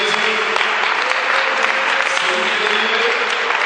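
A Protestant evangelical church congregation gives a loud, sustained acclamation. Dense applause and some crowd noise hold steady for several seconds, with no single voice standing out.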